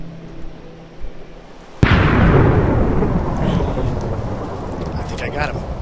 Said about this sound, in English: I can shoot him with lightning.